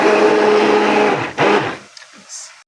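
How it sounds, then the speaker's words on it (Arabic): An electric whisk or mixer beating yogurt with starch in a home kitchen runs as a loud, steady whir for about two seconds, briefly dips, then cuts off, leaving faint clinks and room noise. "وبنخفق اللبن بالنشا وبحطه على الغاز يغلي"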